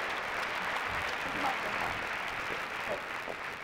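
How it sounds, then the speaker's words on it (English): A conference audience in a student affairs session claps in a steady, faint round of applause that fills the short stretch without a break. "Give both Gretchen and Susan a big round of applause."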